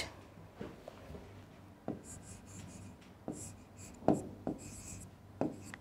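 A pen writing on paper for a class-four science lesson, with faint, close scratchy strokes and occasional taps over a low background hum, spread across several seconds.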